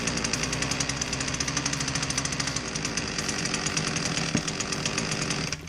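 A Poulan Pro pole saw's small two-stroke engine runs steadily and loud with a rough, buzzing drone and one sharp knock near the end, then cuts off. The saw has an air leak from a cracked red rubber boot and doesn't run right.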